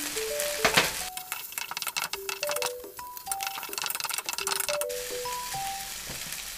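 Instant noodles, seasoning and pork stir-fried in a pan for a Thai basil dish give a steady sizzle with stirring scrapes, running under a tinkling background melody.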